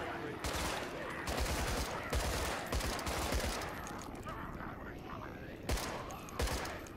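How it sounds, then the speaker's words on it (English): Rapid bursts of machine gun fire in a video game, several long automatic volleys with brief pauses, loud and close, with a voice talking between and over the shots. "Machine gun time."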